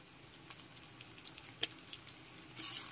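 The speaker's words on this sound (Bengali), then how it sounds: "এখন একটু ভালো করে নেড়েচেড়ে মিশিয়ে নিচ্ছি" Spoon stirring chili powder, Kashmiri chili powder and turmeric into a ridge gourd, potato and prawn curry in a pan: soft scattered scrapes and faint sizzle, quiet and close, ending in a brief louder hissing burst.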